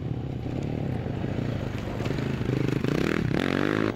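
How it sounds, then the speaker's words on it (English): A Honda racing quad with a mechanical fault runs in an off-road race, its engine droning steadily and loudly with harmonic revs that climb near the end, accompanied by some scraping and clatter. "Johan Gray about to eat up the ailing Honda quad."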